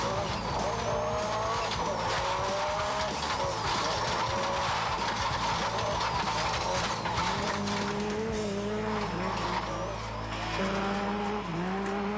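Rod Millen's Toyota Hilux race truck on a practice run in a hill climb race, its engine revving hard and shifting pitch with tire squeal, loud and continuous under a commentator's voice.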